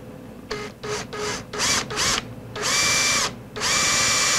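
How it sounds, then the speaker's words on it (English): Small power drill boring a pilot hole in a workpiece for a mini CNC build, heard up close in a series of short whining bursts followed by two longer sustained runs. "I think I'll be able to just drill a pilot hole"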